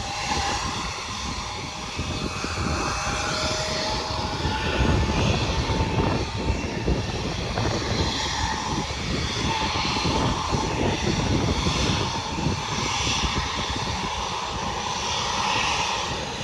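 An aircraft engine at Bluegrass Regional Airport in Lexington, Kentucky, drones steadily and fairly loudly for the whole stretch, with a rough, rumbling texture and no talk.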